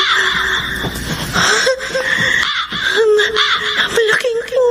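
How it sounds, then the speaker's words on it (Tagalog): A large crow caws in a radio drama sound effect, harsh repeated calls mixed with loud screaming and laughing voices, layered and close throughout. "Malaking uwak."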